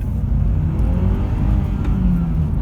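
A Honda Accord with a 2.4-litre K24 i-VTEC DOHC engine pulls away in first gear, its engine note loud, close and steady, rising gradually under load throughout.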